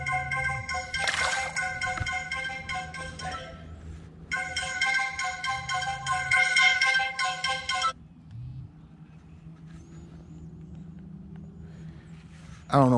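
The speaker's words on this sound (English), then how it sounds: "when I get to fishing, man, the phone always want to ring" A mobile phone rings outdoors while bass fishing, two loud, close bursts of a repeating electronic ringtone separated by a short pause, then silence over faint ambient noise.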